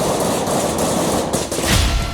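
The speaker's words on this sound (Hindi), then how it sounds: "पहले रडार पर गोली फायर होती है" Sniper rifle fire strikes a radar unit on the Israel–Lebanon border, heard as a rapid run of sharp, loud cracks and bursts in close succession.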